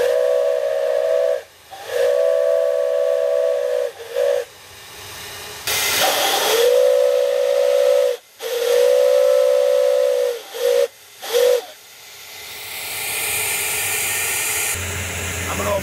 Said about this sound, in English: Just releases enough steam to bring the pressure down.